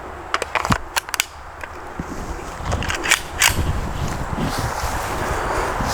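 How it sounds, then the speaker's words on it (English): Several sharp reports from a pistol firing 10mm Auto handloads with Barnes Tac-XP 125 grain bullets outdoors, a quick cluster of cracks early on and more spaced shots later, over steady wind noise. "what we're shooting is the Barnes Tac-XP 125 grain bullet"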